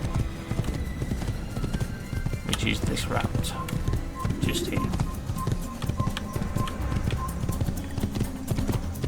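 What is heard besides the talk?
horse galloping in Assassin's Creed video game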